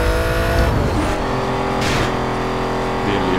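In the video game NFS Most Wanted, a Chevette fitted with a Mustang engine revs and accelerates hard, engine pitch climbing through gear shifts with brief tire noise, loud and steady.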